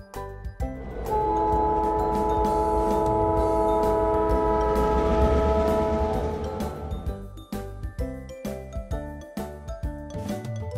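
A train roars past close by with sustained horn blasts, then the rhythmic clatter of wheels over rail joints continues as it moves on.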